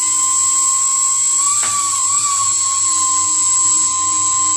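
A drill spinning two parallel wires to twist them whines at a steady high pitch for the whole stretch, briefly wavering in speed midway, close and continuous with no talking.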